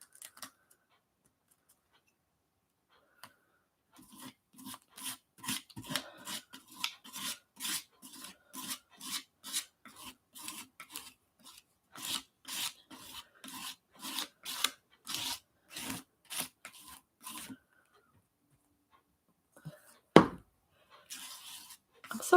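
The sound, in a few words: spreading white modeling paste on paper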